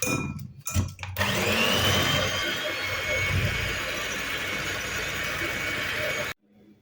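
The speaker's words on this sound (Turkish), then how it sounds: "Bunu da aktarıyorum ve güzelce bunları çırpıyorum." An electric mixer whirs steadily as eggs and sugar are whisked for white chocolate brownie batter, starting after a few clunks and stopping abruptly at the end.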